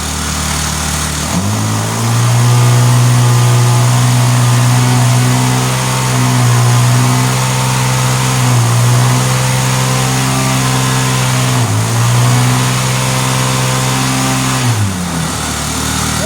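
A Hot Wheels gas go-kart's small engine runs loud and close, revving up at the start, holding a high steady drone with slight dips and surges, then dropping back near the end.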